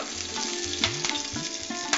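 Curry leaves tossed into hot oil for a vegetable curry sizzle and crackle steadily, with a few sharper pops and stirring clinks close by.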